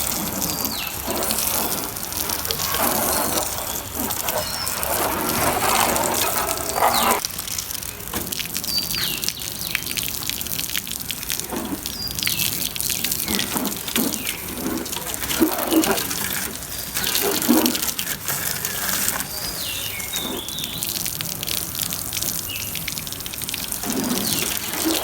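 Water gushes steadily from a hose during outdoor washing, a close, continuous splashing rush that varies slightly in force. Occasional bird calls sound in the background, and there is no talk.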